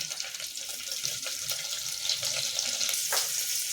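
Chopped onions go into a hot pan for a roasted-and-ground chicken curry, a continuous close sizzle with hissing, crackling frying noise and occasional stirring scrapes.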